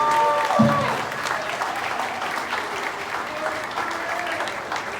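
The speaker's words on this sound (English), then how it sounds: "Let's give them all another tremendous round of applause." Sustained applause from a community gathering for a group of honorees, an even wash of many hands clapping with a brief low thump near the start and faint tonal sounds underneath.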